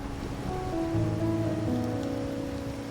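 Rain falls steadily in the Wuthering Waves video game on a rainy night, a soft continuous patter under a quiet, low musical drone, with no voices.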